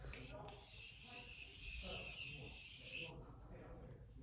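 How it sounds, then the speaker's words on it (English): Jeffree Star Morphe makeup setting spray with a strawberry scent, misted in one steady burst of hiss lasting about three seconds, close to the mic, with faint background noise before and after. "Now I'm just gonna set using the JEFFREE Star Morphe setting spray."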